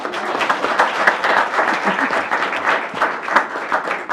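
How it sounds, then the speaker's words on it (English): An audience claps steadily and fairly loudly at a formal ceremony in Columbus, a dense, continuous round of applause with no voices on top. "Applause."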